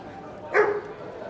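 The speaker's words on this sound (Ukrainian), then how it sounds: "Собака гавкає." A dog on a street in Brussels gives a single sharp bark, close and clear over low background hum and a murmuring voice.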